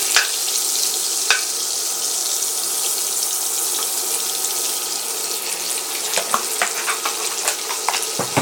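Vegetables fry in Kerrygold butter in a pan at medium heat, a steady close sizzle that turns into scattered sharp pops and crackles toward the end, with no talking.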